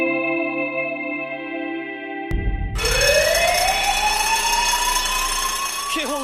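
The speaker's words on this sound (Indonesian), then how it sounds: "alarm berbunyi di seluruh katedral" Alarm siren blaring throughout a cathedral in an anime scene, entering abruptly after a few seconds of tonal music with rising, sweeping wails and a loud, steady electronic blare that continues to the end.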